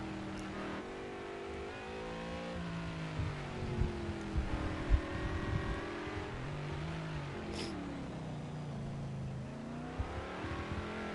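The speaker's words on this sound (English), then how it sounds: "Blizzard is followed right behind in his bright yellow and black McLaren." McLaren race car engine in the Project Cars 2 racing game at Long Beach: a steady, loud, high-revving whine that rises and falls through gear changes, with a few brief thuds and no talking.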